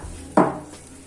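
A spoon clinks and scrapes once against a pan while a tomato breakfast mixture is stirred, a short bright metallic stroke that fades quickly in a quiet kitchen.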